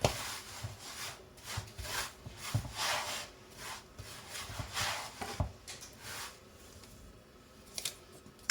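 Harcha batter being mixed by hand after salt and sugar are added, close scraping and rubbing strokes in an irregular rhythm, fairly quiet with no talk.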